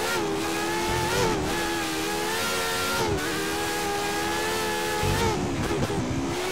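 Ferrari 312 race car engine in the F1 2013 racing game, loud and continuous, revving steadily with brief dips at gear changes and rising again, close and alone without talk.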